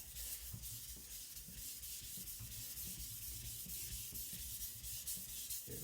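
A custom Chinese cleaver of 52100 steel sharpened on natural stones, continuous gritty scraping strokes close up, steady and even throughout with no talk.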